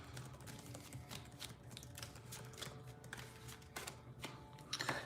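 Tarot cards being shuffled at a reading table, a soft run of quick riffling and papery taps with a few sharper flicks, close and quiet.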